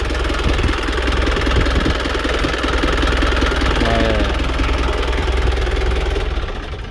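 An engine started for the first time after sitting parked for ten years runs at a steady idle close by, with a continuous rumbling drone and an even, slightly knocking beat throughout.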